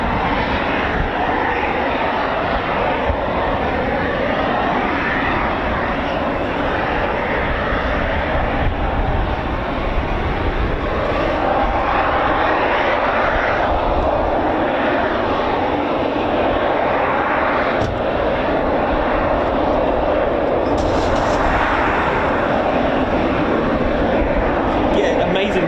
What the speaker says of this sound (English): we've got the Typhoons started up